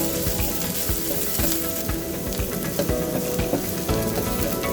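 Onions, ginger, garlic and green pepper fry in hot vegetable oil with a loud, constant sizzle and crackle, broken by repeated scraping strokes of a stirring spoon, close up and with no voices.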